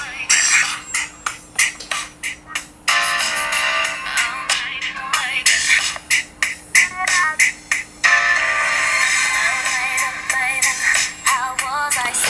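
A pop song plays at full volume through a smartphone's built-in speaker, sounding thin and tinny with little bass, its punchy beats and vocal lines pulsing in a steady rhythm.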